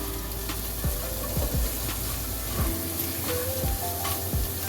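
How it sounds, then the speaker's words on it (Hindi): Tomato masala with cumin and coriander powder sizzles in a pan while being mixed, a continuous close hiss punctuated by regular scraping strokes of the spoon. "इसमें हाफ टी स्पून ज़ीरा और हाफ टेबल स्पून धनिया पाउडर वो शामिल कर दें और इसको मिक्स करें"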